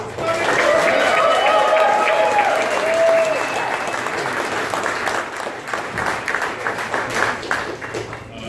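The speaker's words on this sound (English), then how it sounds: "Big round of applause for Brooklyn's Nikosi Solomon." A crowd applauds loudly and steadily at a boxing press conference, dense clapping filling the room, with some whistles and cheers early on before it slowly thins.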